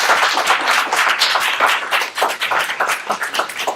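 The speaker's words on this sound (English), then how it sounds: "can we get a round of applause, please, for our presenters today?" A symposium audience claps for the panel presenters, a dense, steady wash of many hands that keeps going throughout.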